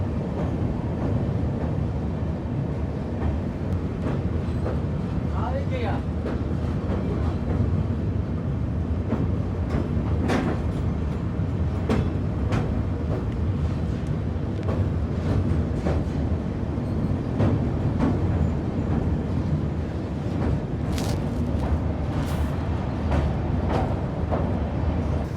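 A Rajdhani Express train crosses a bridge on the approach to Sairang station in Mizoram, with a steady, loud rolling rumble and faint metallic clanks and squeals throughout, no voices.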